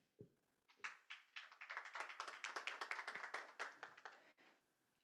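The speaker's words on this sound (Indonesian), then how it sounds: "Boleh berikan tepuk tangan." Attendees at a company's annual shareholders' meeting clap for a director being introduced, a modest scattering of distinct handclaps that swells briefly, then thins out, heard faintly in the room.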